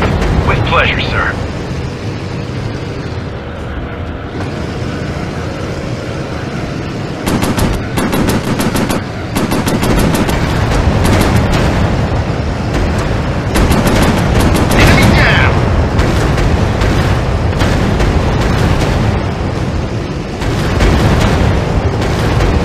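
Warplanes firing machine guns in a Pacific air battle in a VR video game: sustained, loud rapid-fire bursts and booms over a constant engine roar, with voices speaking in between the firing.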